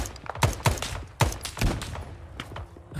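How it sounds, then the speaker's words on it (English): Shotgun fire in Arma 3 S.O.G. Prairie Fire, several loud, punchy blasts in irregular succession with booming tails, mixed with fainter distant shots in a busy firefight. "Are you seriously trying to use the shotgun?"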